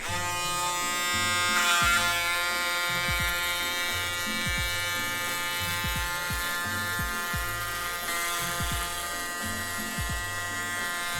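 An electric foil shaver buzzes steadily while a barber takes hair down below the fade guideline on a mid skin fade, a close, constant electric hum broken by short repeated passes.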